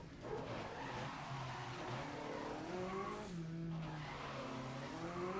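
Front-wheel-drive Formula 1 car racing in a video game, a continuous high engine whine with shifting pitch sweeps as it accelerates and changes gear, with tyre squeal and skidding mixed in, steady and loud throughout.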